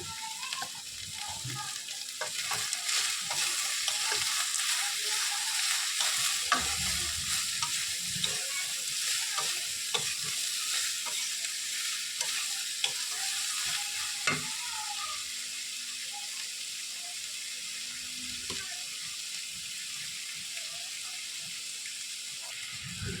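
Vegetables fry in hot oil with salt and turmeric while a spatula stirs them, giving a steady close sizzle broken by occasional scraping knocks against the pan.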